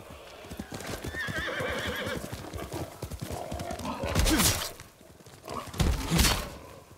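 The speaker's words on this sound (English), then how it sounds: "Let's get on horseback." A horse in the video game Ghost of Tsushima gives a loud whinny over a steady clip-clop of hooves, followed by heavy thuds and crashes, with game music faintly underneath.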